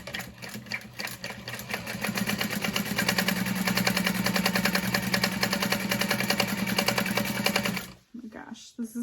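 A sewing machine runs at a quick, even pace while top stitching through thin fabric for a bag, its rapid needle chatter loud and close before stopping near the end, with brief talk around it.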